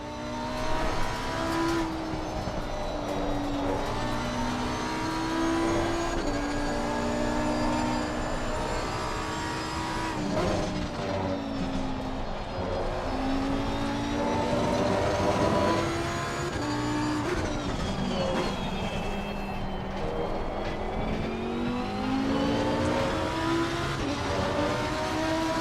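Race car engine in the racing game Assetto Corsa Competizione, revving up and down through repeated gear changes with rising and falling whine, continuous and loud throughout with no talk.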